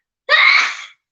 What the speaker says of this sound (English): The boy just sneezes all the time.